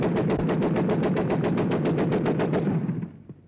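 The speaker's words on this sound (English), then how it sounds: "Part of the training of the men of the merchant marine of today is to familiarize them with the use of various types of guns." Shipboard guns fire in a rapid, steady burst of loud repeated shots during a 1942 merchant marine gunnery training demonstration of tracer fire control, cutting off abruptly with a fading tail.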